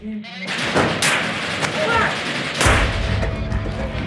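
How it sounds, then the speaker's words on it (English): Combat gunfire including sniper and rocket fire: sharp cracks and heavy blasts ring out against a noisy background, with a strong low rumbling impact near the middle. "We've been pinned down by ISIS sniper fire and now rocket fire."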